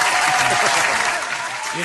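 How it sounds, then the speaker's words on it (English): Audience applause for a talk-show guest: loud, dense clapping from a crowd throughout, with voices speaking over it. "One more round of applause."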